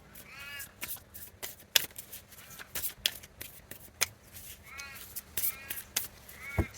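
Tarot cards are shuffled and laid out on a table, making repeated soft riffling bursts and quiet slaps of cards dropping down at close range, with crows cawing faintly in the background and no speech.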